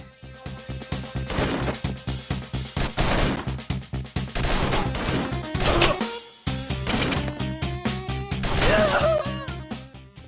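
Enemy death sounds from the side-scrolling shooter Mercenary Kings, a dense, loud burst of gunfire, crashes and impacts with a game soundtrack underneath, a brief dropout near six seconds, then more blasts.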